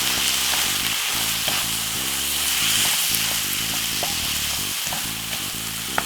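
Corned beef and tomato sauce sizzle steadily in a pan while being stirred, a continuous frying hiss running throughout, with what sounds like a music bed playing underneath.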